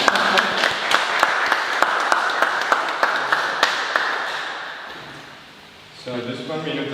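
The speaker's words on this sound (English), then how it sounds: "give it an applause now" Applause from a small audience at an immersive-narrative event, with a few sharp, distinct claps over a light patter that fades out, followed by a voice speaking.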